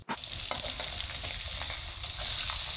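Onions frying in a pan for South Indian tomato rice give a steady, close hiss and crackle of sizzling oil, with faint stirring taps after a soft clunk at the start.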